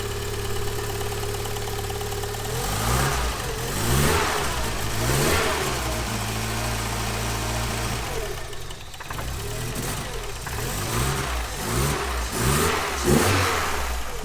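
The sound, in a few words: tuned 3.0 car engine revving on a dyno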